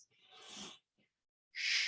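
A person vocalizes the Shri healing sound for the kidneys, a breathy hissing exhalation followed by a short pause and another sharper hiss, close and soft.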